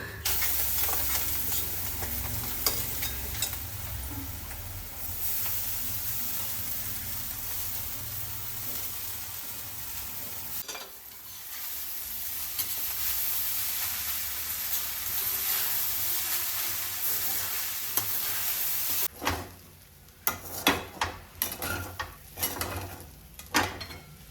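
Continuous sizzling in a hot pan as poha is stirred into the tempering, ending with a few sharp scraping and clattering stirs.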